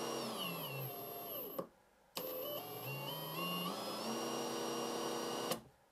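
A Villager VLP 5320 cordless impact screwdriver runs in two steady motor bursts, a high smooth whine whose pitch rises at each start, with a short silent pause between them and no talking.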